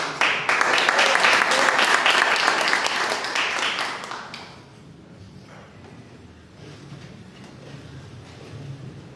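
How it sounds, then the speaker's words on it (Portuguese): A church congregation applauds loudly and steadily for about four seconds as a pastor is welcomed, then the clapping dies away into a quiet room murmur. "aplauda o Senhor recebendo a pastora"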